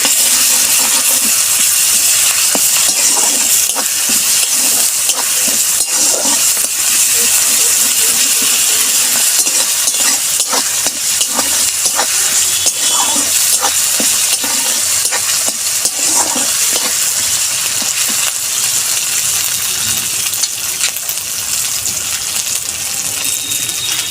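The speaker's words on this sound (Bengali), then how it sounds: "এই যে আদা আর রসুন এই পেস্টটা দিয়ে দেবো, দিয়ে আমি ভালো করে ভাজবো" Ginger and garlic paste fries loudly in a pan with a steady, dense sizzle and hiss, broken by scraping and stirring clinks throughout.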